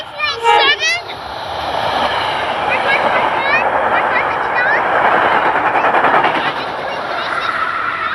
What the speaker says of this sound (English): last train, it's a West Trenton